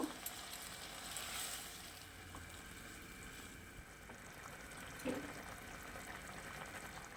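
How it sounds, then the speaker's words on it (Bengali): About a cup of water, including spice-laden water rinsed from a mixer jar, poured into a cooking pan of vegetable curry, giving a soft continuous rushing fill with a faint sizzle, close and moderately loud throughout. "এবারে 1 কাপ মতো জল দিলাম"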